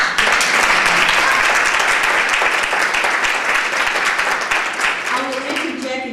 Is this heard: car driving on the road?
no